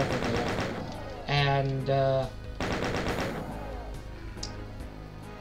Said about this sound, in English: very quickly deal with that chain gun right over there